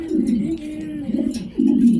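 Low, throaty coos from Homa pigeons in repeated rolling bursts, close by, with a soft pause between calls.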